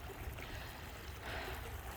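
Creek water flowing behind a house, a steady soft broadband rush and trickle that continues without a break, faint and even with no voices.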